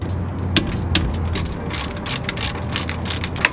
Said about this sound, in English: I'm gonna use a 14mm socket. I'm gonna remove the 2 bolts so I can take the caliper off.